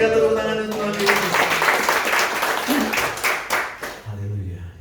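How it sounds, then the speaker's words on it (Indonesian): Church congregation clapping together during worship, a broad wash of applause mixed with voices and background music, fairly loud, fading out toward the end as a sustained tone carries on. "Berikan tepuk tangan untuk Tuhan Yesus"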